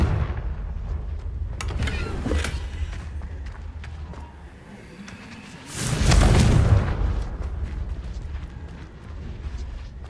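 Confringo blasting spell going off in a Harry Potter-style wizard video game, a heavy booming explosion with a loud roaring burst midway, over a continuous rumbling game background.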